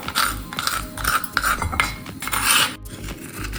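Roasted spices and asafoetida pounded into a coarse powder in a mortar: rapid, rhythmic gritty pounding and grinding strikes, close and loud, about a dozen hits in quick succession with no voice.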